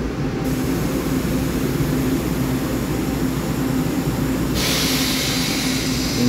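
Taiwan Railway PP Tze-Chiang express, twelve PP coaches between E1000 electric locomotives, runs past close by on the Mountain Line with a continuous loud roar and rumble of wheels and hiss.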